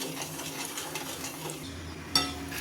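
A spoon stirs a rabdi mixture of milk, milk powder and sugar in a pan, making soft, faint scraping and swishing, then one brief clink near the end.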